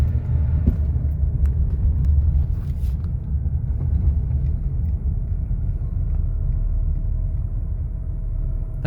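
Inside a car, the engine rumbles low and steady while accelerating, with a faint whine riding over the deep drone and no one speaking.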